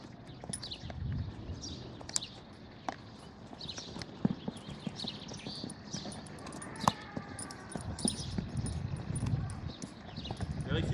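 Horse hooves clip-clopping on the ground during show-jumping training over an oxer, an uneven rhythm of fairly close footfalls with a trainer talking at intervals and faint birds in the background.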